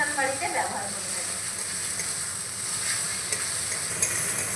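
Onion, ginger and garlic frying with chili powder in a pan for a prawn and pointed gourd dish, a loud continuous sizzle with stirring scrapes near the start, close by, no talk.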